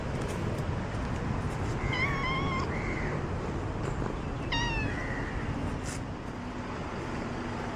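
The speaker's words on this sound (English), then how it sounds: "there are cats." Several cats meow on a street on Penang Island, two clear rising-and-falling cries in quick succession over a steady wash of traffic and street noise, fairly close by.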